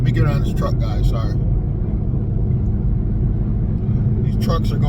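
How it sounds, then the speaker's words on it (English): Heavy trucks rolling slowly along a road, a steady loud low rumble filling the whole stretch, with brief voices talking at the start and end. "These trucks are going like super slow today."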